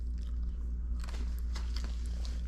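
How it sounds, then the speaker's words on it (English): Someone bites into a crunchy chocolate-covered Pop-Tart, sharp crisp cracks and crunching close to the mic after a brief quiet start, over a low steady hum. "It's got a nice crunch from the chocolate being coated on the Pop-Tart."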